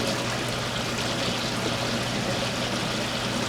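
Water runs steadily through half-inch supply lines feeding the egg incubators at about five gallons a minute, a constant close rushing trickle with a faint low hum underneath and no talking.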